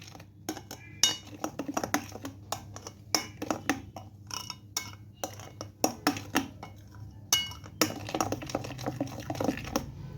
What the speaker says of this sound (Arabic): اقلب كله كده مع بعضه